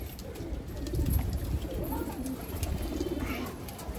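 Pigeons coo repeatedly in low, throaty rolling calls, close by and continuous, with a faint high whine in the background.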